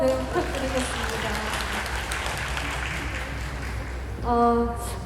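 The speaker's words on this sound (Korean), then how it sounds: "박수 한번 부탁드리겠습니다." Audience applause fills a film festival screening Q&A marking the 20th anniversary of One Fine Spring Day, steady sustained clapping from a sizable crowd, with music and a voice faintly underneath near the end.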